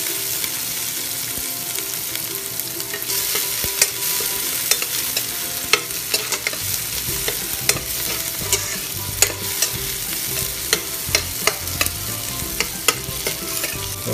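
Onion and garlic frying in a pan, a constant sizzle broken by repeated scrapes and taps of a utensil stirring at an uneven rhythm, close and clear.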